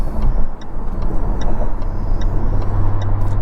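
Inside a Jaguar F-Type R AWD convertible on the interstate, a loud, steady rumble of wind and road noise fills the cabin, with a regular soft ticking repeating above it.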